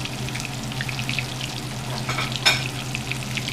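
Bluegill fillets fry in a pan of hot oil, giving a steady crackling sizzle with a brief louder spatter partway through and no talking.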